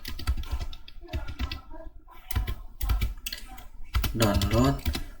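Computer keyboard keys clattering in quick bursts under a voice that talks over most of the typing.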